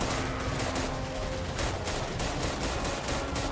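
Rapid gunfire from an assault rifle in the World War II shooter game RAID WWII, with dense, continuous automatic bursts sustained at steady loudness throughout, no voices.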